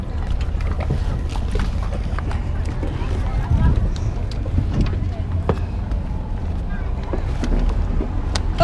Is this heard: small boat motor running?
yes